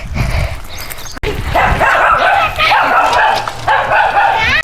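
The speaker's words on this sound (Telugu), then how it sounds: "కుక్క అక్కడ ఉంది కదా మరి మొత్తుకుంటాంది" A dog barks and yelps repeatedly, close by, with high whimpering cries between the barks over a noisy outdoor background.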